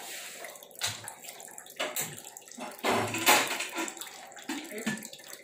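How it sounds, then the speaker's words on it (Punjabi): Water splashes and gushes into a pressure cooker for a mung and masoor dal, coming in uneven bursts over a few seconds, fairly close and moderately loud. "ਇਹਦੇ ਲਈ ਪਾਣੀ ਧਰ ਦਿੰਦੇ ਹਾਂ ਕੁੱਕਰ 'ਚ"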